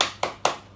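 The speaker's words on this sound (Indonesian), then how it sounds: "Tepuk semangat." Two sharp, loud claps about a quarter second apart in a classroom spirit cheer, close and clear with a ringing tail after each.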